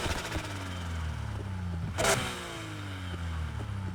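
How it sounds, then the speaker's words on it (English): A Porsche engine in Need for Speed Heat revs and falls away, with a smooth rising and falling drone and a sharp crackling exhaust pop near the middle. "Overrun is obviously how much the exhaust pops"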